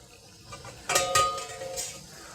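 Metal canning basket lowered into a pot of water while processing peach chili salsa, giving a couple of quick clanks and a short watery splash, fairly quiet and close.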